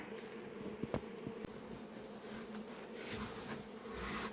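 Honeybees move into a new hive and make a steady, close buzzing drone that carries on the whole time, with a few brief knocks and no one speaking.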